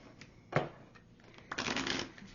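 A large tarot deck is shuffled in two quick riffling bursts, the second longer, with crisp papery flutters close by and quiet between them.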